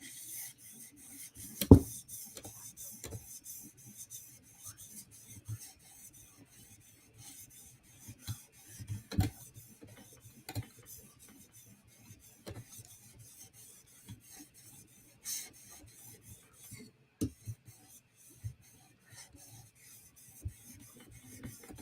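A PM2 tanto knife blade rasped against a sharpening stone in quiet, steady back-and-forth strokes, with an occasional sharper scrape.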